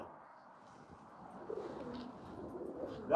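Pigeons coo softly at a rooftop loft, low murmuring calls in a quiet setting with a louder flutter or rustle at the very end.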